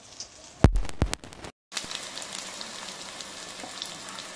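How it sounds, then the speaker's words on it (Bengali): Ginger-garlic paste and spices frying in oil for a chickpea dal, opening with a few sharp utensil knocks and a brief pause before a steady, quiet sizzle settles in. "এটাকেও আমি আর একটু ভালো করে লাল করে ভেজে নেব।"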